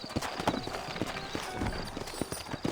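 Horses clip-clop at a walk in the Western video game Red Dead Redemption, a close, loose rhythm of hoof knocks on packed dirt with a low ambient bed behind.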